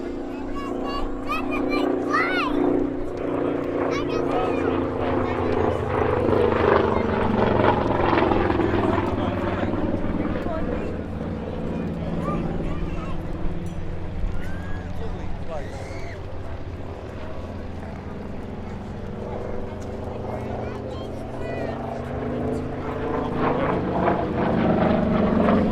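A Saab B17 piston-engined reconnaissance and dive bomber aircraft drones steadily overhead at the Duxford Battle of Britain airshow, its propeller engine rumbling continuously and loudly while a commentator talks over the sound.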